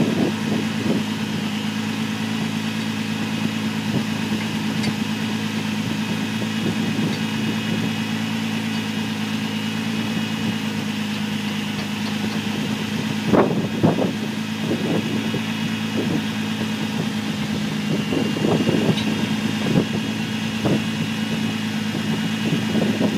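A 2004 Nissan Murano with the 3.5 engine idles steadily nearby, a constant low hum with a brief disturbance midway and no talking.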